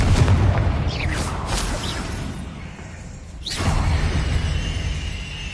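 Confringo spell blasts in Hogwarts Legacy burst with whooshing fiery booms over a dense background rumble, several bright impacts spaced a second or two apart.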